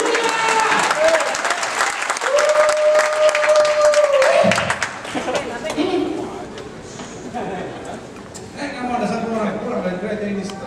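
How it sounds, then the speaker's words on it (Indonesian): A church congregation bursts into applause, steady clapping from the crowd that holds for several seconds then fades, while a preacher's voice carries over and after it. "Berikan tepuk tangan."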